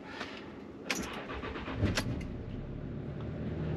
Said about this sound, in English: let's start the car, why not?